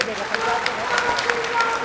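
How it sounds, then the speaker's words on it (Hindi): Audience at an AAP political conference in Uttar Pradesh applauding, a short burst of dense clapping with crowd voices mixed in. "इनके लिए जोरदार तालियां बजाइए"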